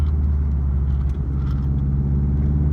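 A turbocharged car with a stage 2 competition clutch and bigger cams runs while driving, a steady low engine drone with a faint hiss of boost, heard from inside the cabin, no talk.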